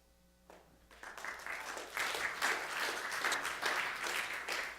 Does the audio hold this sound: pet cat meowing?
no